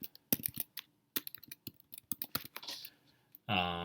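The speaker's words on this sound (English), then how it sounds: "so I'm just going to type in Mass Effect." Typing on a computer keyboard, a quick run of crisp, close key clicks in uneven bursts, ending in a brief louder sustained tone.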